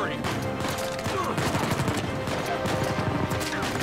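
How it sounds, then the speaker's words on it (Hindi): Rapid bursts of gunfire crackle continuously in Uncharted 4, dense overlapping shots and impacts filling the moment over a steady game backdrop. "सैम तो गोली चला रहा है ना भाई"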